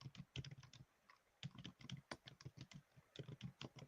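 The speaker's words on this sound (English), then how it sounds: "I'm typing what you said." Rapid bursts of typing on a computer keyboard, clusters of close, crisp key clicks separated by brief pauses, with no talking.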